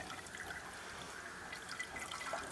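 Water infused with leaves trickles and drips steadily through a cloth strainer, a soft close liquid patter for a couple of seconds with no talk.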